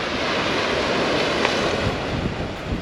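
Ocean waves at Fyrodi beach in Magganitis on Ikaria roll in as a steady, broad wash of surf, loud and continuous, with wind buffeting the microphone.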